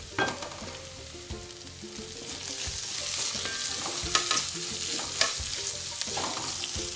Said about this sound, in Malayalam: ഈ ഇഞ്ചിയും പച്ചമുളകും ഉള്ളിയൊക്കെ ഈ എണ്ണയിൽ കിടന്നിട്ട് ഇങ്ങനെ മൂത്ത് വരുമ്പോൾ